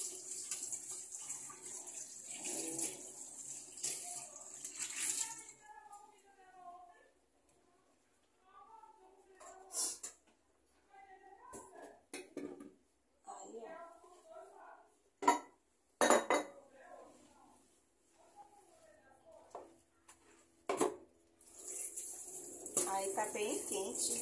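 Dishes and cutlery clatter in a home kitchen sink while tap water runs in bursts, with someone speaking between the clinks and splashes.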